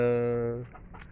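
Young pullets give a drawn-out clucking call, close and fairly loud at first, then fade into scattered softer clucks and rustling from the flock.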